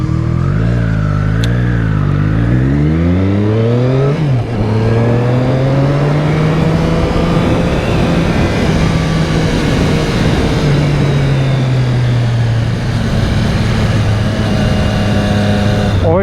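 A motorcycle ridden hard around a kart track in Aukštadvaris, its engine loud and close, revving and rising in pitch through the gears, then holding a steady high drone as it carries on around the circuit.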